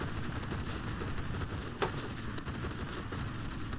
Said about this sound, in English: we already got enemy fire